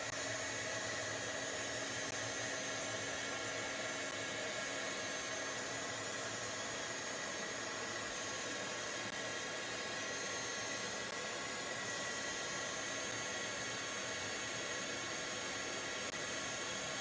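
A heat or blow dryer runs steadily and close up, drying texture paste on a craft tag, a continuous loud airy whoosh with no breaks or voices.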